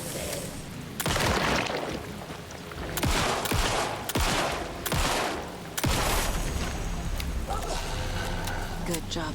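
Loud bursts of video-game gunfire crack out in several separate volleys with sharp individual shots, while a person talks intermittently over the shooting.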